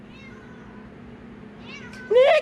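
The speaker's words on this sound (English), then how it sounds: "Hey, kitty. Hey, kitty. Meow. Meow." A cat meows close by, rising, drawn-out cries that grow louder near the end over a faint steady hum.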